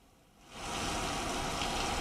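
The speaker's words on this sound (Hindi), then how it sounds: "चेतावनी से पहले ही यहाँ पर जो समय मुकर्रर किया गया था उससे पहले ही यहाँ पर तेज बारिश आ गई है।" Heavy rain in Rajasthan swells within half a second from quiet into a dense, steady hiss of downpour, close and loud, with no talking.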